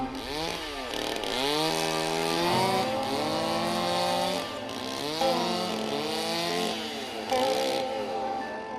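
Chainsaws cut large ice blocks for sculptures at the Harbin ice festival, their engines whining and revving in repeated rising and falling strokes, loud and continuous.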